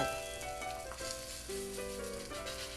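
A masa huarache shaped like a sandal sizzles on a hot pan, a soft, steady, continuous frying hiss at low volume with no talking.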